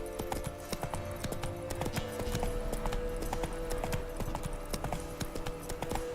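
Hoofbeats of Geralt's horse Roach in The Witcher 3: Wild Hunt, a steady clip-clop trot held close and clear for the whole stretch over a faint ambient bed, with no talking.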